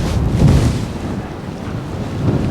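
Gusty wind on a links golf course buffets the microphone with a low, rumbling roar that swells and eases, with no voices.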